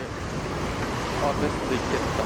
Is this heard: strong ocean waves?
yes